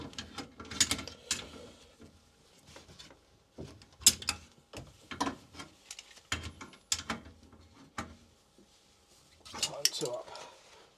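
Heating pump valve nuts being tightened by hand with a tool, producing intermittent metallic clanks, scrapes and knocks, close and moderately loud, with short pauses between turns and some low talk.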